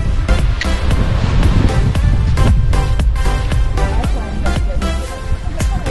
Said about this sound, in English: The waves, also.